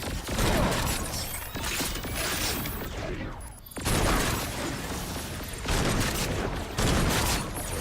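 Grenade tossed and detonating during a PC gameplay session of Agents of Mayhem, a loud burst standing out amid continuous dense gunfire, mechanical clatter and other game effects.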